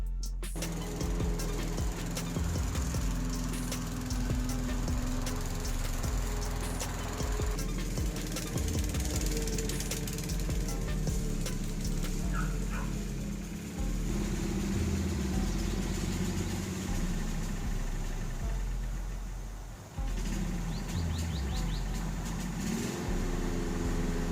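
A Craftsman 6.75 Briggs and Stratton walk-behind lawn mower with a freshly rebuilt carburetor runs with its bag on. The engine drone is steady and moderately loud, shifting in tone now and then, with a brief dip near the end.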